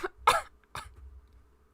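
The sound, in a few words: coughing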